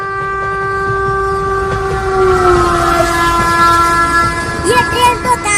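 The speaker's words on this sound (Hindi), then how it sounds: "आ गई ट्रेन, आ गई ट्रेन" A train pulls into a station, its horn blaring in long sustained tones over a steady rolling rumble of wagons, loud and close throughout.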